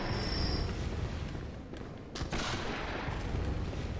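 Sniper gunshots ring out in Bloodborne, with a couple of sharp broadband cracks standing out against a dense, continuous rumble of game noise and combat.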